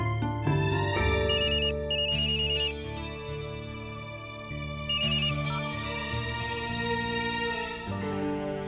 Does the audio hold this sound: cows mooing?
no